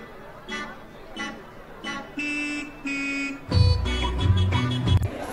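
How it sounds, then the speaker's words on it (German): Car horns honk in a musical pattern as an inserted sound effect, a series of separate toots that grow louder and denser toward the end, with a voice talking faintly underneath. "Die haben niemals diese Musik gemacht mit den Hupen."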